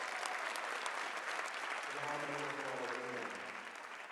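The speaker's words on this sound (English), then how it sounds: "Let's give yourselves another round of applause." Applause from the crowd at the Baltimore mayoral inauguration at Morgan State University, a steady roll of many hands that begins to fade at the end, while a voice speaks over it midway.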